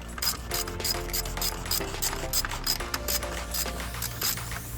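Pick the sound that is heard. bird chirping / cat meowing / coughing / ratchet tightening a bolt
ratchet tightening a bolt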